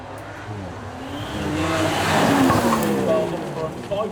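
A twin-turbocharged 5.2-litre supercar engine of 715 horsepower revs and builds to a loud peak mid-clip, then eases off, with crowd noise and a voice around it at a supercar demo event.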